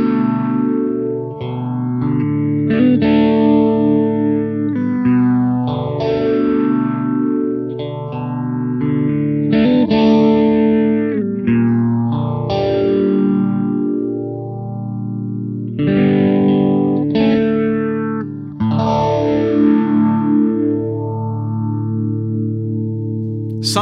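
Electric guitar played through an Electro Harmonix Small Stone phaser pedal, loud sustained chords with a deep, slowly sweeping whooshing phase effect rising and falling in repeated cycles, no voices.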